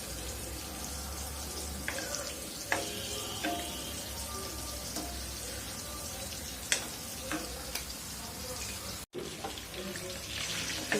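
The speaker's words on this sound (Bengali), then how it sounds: "ডিমটা হালকা ভাজি করে নিব।" Eggs fry lightly in a pan with a steady, close sizzle, broken by intermittent spatula taps and scrapes and a short gap late on.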